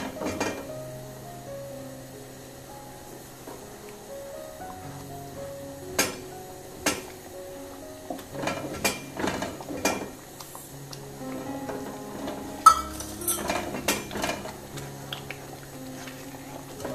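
Roasted semolina (rava) being stirred in a pot as it is added a little at a time, giving soft scraping and scattered metallic clinks of a spoon against the pot over a faint steady kitchen hum.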